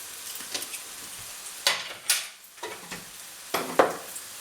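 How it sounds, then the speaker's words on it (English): Vindaloo curry stirred in a pan, with soft sizzling and frying under a string of scraping, clinking spoon strokes against the pan at an irregular pace. "we'll keep stirring that for a little while"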